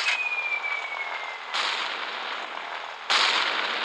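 Bombs exploding in the naval combat game Gunship Battle, three heavy blasts spaced out, each a sudden loud burst trailing into a long rumble, the first carrying a falling whistle, no speech.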